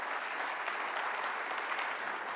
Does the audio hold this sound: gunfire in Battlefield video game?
no